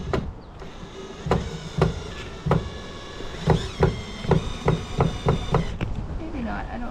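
Screw being driven into a wooden yard sign for a DIY address planter, a series of sharp, regular, close knocks and whirring bursts with a brief pause in the middle, and a voice talking faintly.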